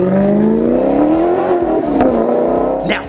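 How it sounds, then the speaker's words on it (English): A Maserati GranTurismo's exhaust revs hard and loud up close, the note rising and falling through repeated throttle blips with a sharp crackle near the end. "beautiful exhaust note, you are gonna be turning heads when you sound like this"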